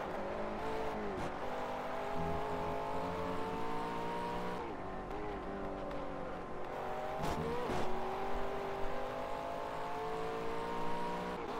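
McLaren race car engine in the Project CARS racing game, a steady, loud, buzzing drone that rises and falls through gear changes for the whole stretch, with no voice over it.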